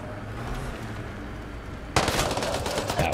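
Automatic gunfire from the video game Mass Effect: Andromeda bursts in abruptly after a quiet low hum, a loud rapid rattle of shots continuing to the end.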